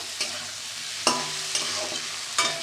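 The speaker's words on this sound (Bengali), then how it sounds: "এবার ভালো করে নাড়াচাড়া করে এবার আবারও ডেকে দেবো ভালোভাবে কষানো হয়ে গেছে দেখো" Soybean curry masala being stirred and fried in a pan: a continuous close sizzle broken by four sharp scraping strokes of a spoon against the pan at irregular intervals.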